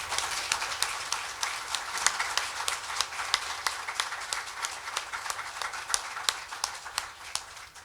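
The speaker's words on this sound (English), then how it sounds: "I hope you would please join me now in giving these residents a round of applause" A modest audience at an affordable housing summit applauds residents, steady clapping with distinct sharp individual claps standing out at a moderate distance, no speech over it.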